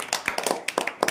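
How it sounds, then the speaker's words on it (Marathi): Schoolchildren in a classroom give a short, ragged burst of applause for a classmate: about a dozen quick, sharp hand claps, close and uneven. "शाबाश, टाळ्या वाजवा कोमलसाठी"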